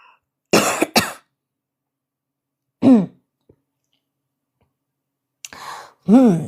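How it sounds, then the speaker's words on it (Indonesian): Several separate coughs and throat-clearing bursts, close and loud, spaced out with silent gaps between them. "Bentar ya guys, kok batuk ya?"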